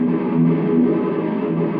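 Thrash metal guitar played through an Engl Savage mk2 amplifier and captured by a separate room microphone: a thick, continuous wall of loud distorted chords that holds steady and dense for the whole short stretch, with no pauses.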